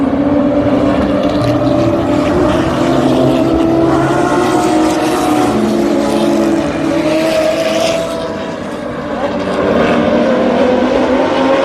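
Historic sports cars accelerating together off the race start at Road Atlanta, a loud, dense roar of many engines with rising and overlapping pitches sustained throughout, briefly dipping near the end.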